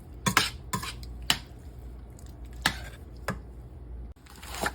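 Spoon scraping and clinking inside a cooking pot while seasonings, including a teaspoon of Green Goddess, are mixed into beans and franks; a few sharp metallic knocks spaced out over quiet kitchen background.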